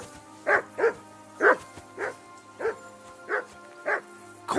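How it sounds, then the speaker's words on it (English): Dog barking in Kingdom Come: Deliverance II, a steady run of about eight loud, evenly spaced barks close by, with a low ambient hum underneath and no talking. "Jesus, Henry, that barking's driving me nuts!"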